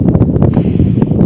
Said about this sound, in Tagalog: Sarap ang simoy hangin dito